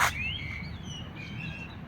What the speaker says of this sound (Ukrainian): Чуєте, як пташки співають?